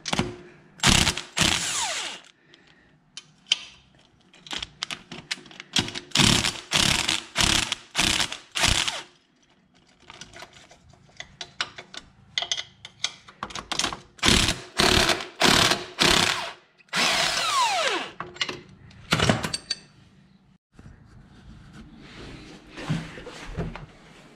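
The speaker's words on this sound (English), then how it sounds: "So now we're gonna loosen our pinch bolts." Ratcheting wrench work loosening the pinch bolts on a Yamaha Banshee's old sprocket carrier: quick bursts of clicking ratchet strokes in repeated clusters, close and fairly loud, with short pauses between sets and no talk.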